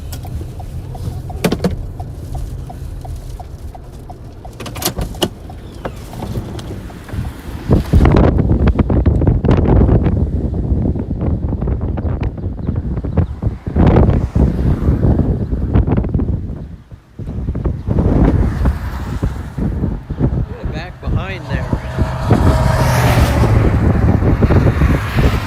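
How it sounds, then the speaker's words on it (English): Strong wind from a tornado-warned storm near Hanston, Kansas, roars and buffets a microphone outdoors, rising to a loud sustained rush with gusty surges and brief lulls, no talking. "see if we can experience the wind real quick"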